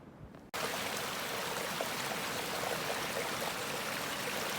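A small stream of water flows out of a snowy valley beside the Appalachian Trail in winter, a steady close rushing burble that starts abruptly after a short quiet moment and continues evenly.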